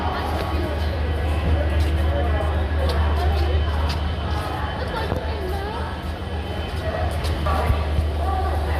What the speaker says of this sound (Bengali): train engine